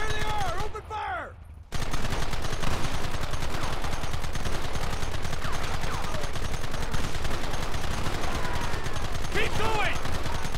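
Red Dead video game shootout: after a brief pause with a voice, dense continuous gunfire erupts, rapid overlapping shots with occasional shouts mixed in.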